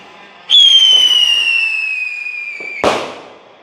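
Firecrackers set off at a home Pongal celebration in a Jaffna village: a loud rising-then-falling whistle lasting over two seconds ends in a sharp crackling bang that fades out.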